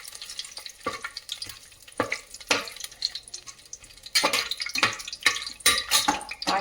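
Whole cloves, cardamom pods, cinnamon pieces and bay leaves fry in hot oil in a pan for chicken biryani, giving a steady close crackle and sizzle with sharper pops and stirring scrapes, growing louder toward the end.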